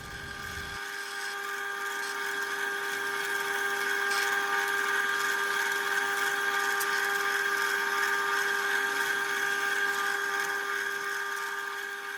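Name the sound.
electric drill drilling through guitar neck with 3.5mm bit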